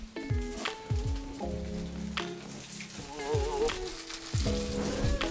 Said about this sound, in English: really just dropping it into a frying pan